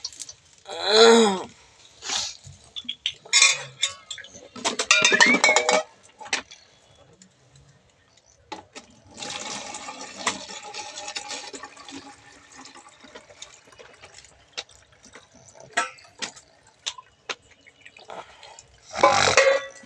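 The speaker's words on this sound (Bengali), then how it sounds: "সব জল ভরা হয়ে গেছে" Water fills plastic bottles in repeated bursts, each pour gurgling upward in pitch as a bottle tops up, separated by quieter stretches with light drips and handling clatter, fairly close.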